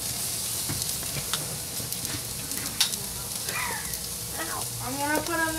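Steak sizzles on a barbecue grill with a steady frying hiss and scattered pops, close and continuous, while voices talk faintly in the background.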